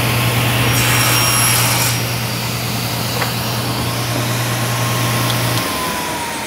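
A hand saw makes a quick cut through wood for a sawhorse tenon, a steady loud rasping for about two seconds before easing off, with a low constant hum underneath.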